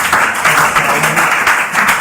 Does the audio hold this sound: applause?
yes